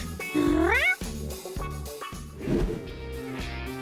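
A kitten gives a clear, close, rising meow, then softer mewing cries over a background of regular thumping beats.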